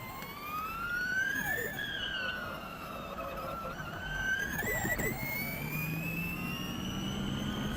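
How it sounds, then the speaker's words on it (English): Formula E electric race car braking at the 2023 Monaco E-Prix street circuit, its front motor regenerating, giving a rising and falling electric whine that sweeps steadily in pitch at moderate loudness throughout, with no talking. "Some interesting noises going on the brake. Yeah. When the front motor comes in to regenerate."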